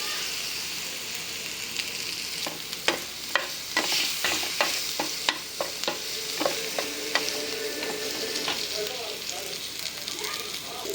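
Cumin seeds sizzle in hot oil in a home kitchen pan over a paste, a steady frying hiss broken by a run of sharp scraping and stirring knocks from a spoon against the pan, close and moderately loud.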